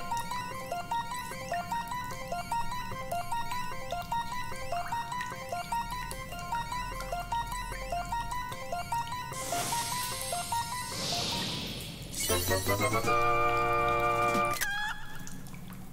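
Bright, repeating chiptune melody from the Zelda: Link's Awakening game, looping steadily before a rising sparkle and a brief closing jingle, loud and alone with no talk.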